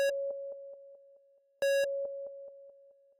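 A synthesized sine tone from a VPS Avenger 2 synth, heavily distorted on its first hit, followed by a series of clean, quieter echo repeats that fade step by step; the pattern plays twice with no voices.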